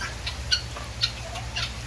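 Chickens in a coop on a rainy farm in Rio Grande do Sul, giving short, sharp clucks about every half second at close range over a steady low hum, with no talking.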